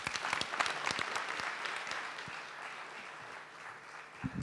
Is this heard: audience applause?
yes